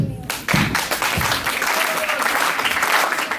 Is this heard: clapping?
yes